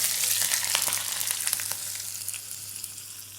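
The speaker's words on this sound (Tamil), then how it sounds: "எண்ணெய் காஞ்சதும் கடுகு, கடலைப்பருப்பு போட்டுக்கோங்க." Mustard seeds and chana dal fry in hot oil, with green chillies and curry leaves also in the tempering for curd rice. A dense, steady close sizzle carries crackling pops throughout, with no talking.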